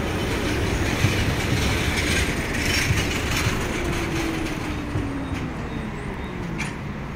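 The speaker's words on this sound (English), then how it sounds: "So we're going for a ride on this tram." Steady rumble and rattle of a tram in motion in Bucharest, wheels clattering along the rails with a faint squeal, no talking.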